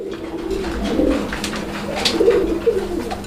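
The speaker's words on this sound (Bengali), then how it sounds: "এখানে একজোড়া কবুতর আছে সোয়া চন্দন কবুতর" A pair of Sowa Chandan pigeons coo at a bird market, close and fairly loud, in a run of throaty rolling coos over faint background bustle.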